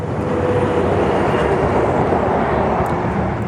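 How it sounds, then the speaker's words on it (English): Steady, loud rumbling roar of a heavy road train passing close on a highway near Esperance, Western Australia, on a windy day, broadband engine and tyre noise with no voices. "Bloody noisy road trains"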